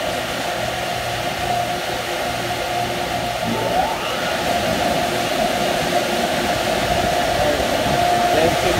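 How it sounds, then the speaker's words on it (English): Touch-free car wash blower dryer at an Exxon gas station roaring as a steady, loud broadband rush that stays constant throughout, with a faint tone sweeping briefly midway. "Slowly through the dryer."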